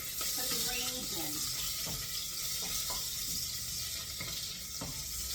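Bacon sizzling in a pan for turnip greens, a steady close hiss with faint stirring clinks and a speaking voice over it.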